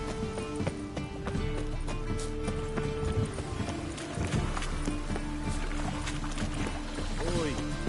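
Horse hooves clip-clopping in The Witcher 3: Wild Hunt on PS5, steady rhythmic hoofbeats under game music, with voices speaking over them and a brief whinny near the end.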